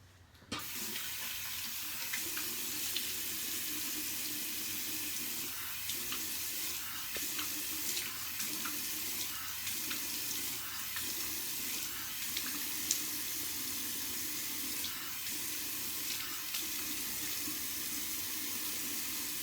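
Water runs steadily from a tap into a sink while a face is washed, a constant close splashing stream lasting the whole stretch with brief soft interruptions from hands in the flow.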